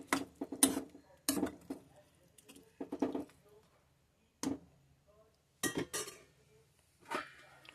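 A lid goes onto a pot of drumstick and tomato curry with several sharp metallic clanks and clatters in short, irregular bursts, separated by near silence.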